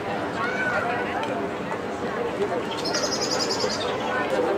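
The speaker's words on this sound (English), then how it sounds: "Lots of pigeons." Pigeons on a busy Barcelona street coo and flutter amid chattering passers-by and footsteps, with a brief high chirp rising over the steady crowd noise.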